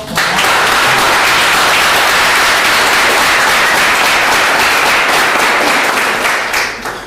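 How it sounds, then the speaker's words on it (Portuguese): A church congregation applauds during a worship service: steady, dense clapping from many hands that stays loud for about seven seconds and eases off at the end. "As palmas glorificam."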